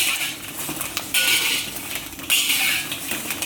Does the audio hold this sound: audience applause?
no